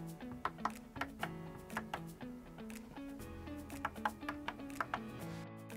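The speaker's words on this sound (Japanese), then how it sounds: "ボタンを押した時の音はこんな感じです。" Button presses on a PU CDU V2 flight simulator control display unit, a string of about a dozen crisp clicky taps at an uneven typing rhythm over soft background music.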